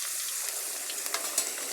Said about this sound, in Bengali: তো আমি একটু নেড়ে দিচ্ছি।